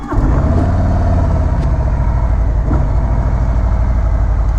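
A 2019 Harley-Davidson Breakout 107 motorcycle engine catches and settles into a loud, deep, steady rumbling idle right up close, continuous throughout with no talk.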